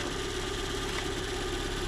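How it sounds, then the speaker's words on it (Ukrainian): A Daewoo Matiz car engine idles steadily while warming up before a compression test, a continuous low, even drone with a mechanical hum throughout and no voices. "Ми прогріваємо двигун хоча б там до 70-80 градусів"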